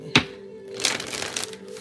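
A deck of cards is shuffled close by, a sharp snap followed by a quick riffling flutter of cards that lasts about a second, with no talking.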